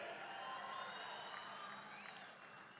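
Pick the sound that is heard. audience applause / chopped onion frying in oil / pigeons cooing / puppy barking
audience applause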